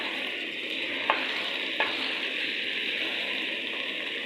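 Cauliflower is stirred and mixed in a frying pan for aloo gobhi, a steady close sizzle with two brief clacks of the utensil against the pan.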